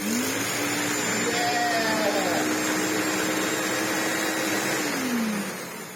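A restored Philips U800 motor with new 608ZZ bearings spins up to a steady loud whirring hum, holds for several seconds with a rising whine in its tone, then starts to wind down near the end.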